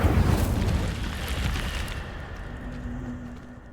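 A fiery Incendio spell is cast in Hogwarts Legacy, giving a loud, roaring burst of flame that slowly fades into a low rumble with a faint sustained hum. No voices are heard.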